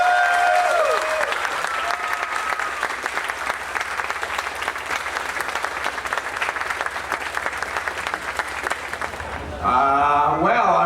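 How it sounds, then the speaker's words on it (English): An audience breaks into a big round of applause welcoming film producer Ilya Salkind at a Superman event in Metropolis, a loud, dense wash of clapping and crowd noise that runs nearly continuously before a voice begins speaking at the end. "let's give him a big round of applause"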